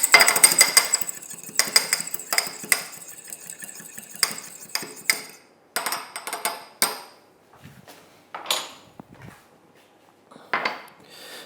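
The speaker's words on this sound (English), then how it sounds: "We'll just break that. Give that a little whisk." Egg for an egg wash is whisked in a small bowl, giving rapid, close metallic clinks and taps that come in uneven bursts and thin out toward the end.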